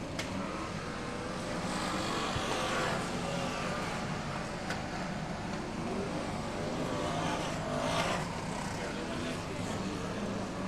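BriSCA Formula 1 stock cars race around the Long Eaton track in 1994, a continuous distant roar of engines rising and falling as cars pass, with a commentator talking over the noise.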